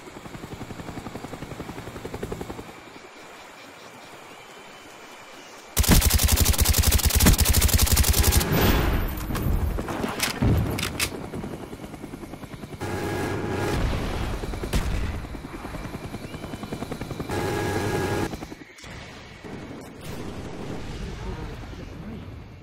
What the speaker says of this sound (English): I don't like helicopters.